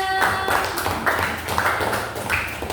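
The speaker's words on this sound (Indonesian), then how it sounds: "Tepuk tangan untuk temannya" A classroom of pupils claps for their classmates after a lesson: scattered, uneven hand claps of moderate loudness fill a small room, with a brief tone heard at the start.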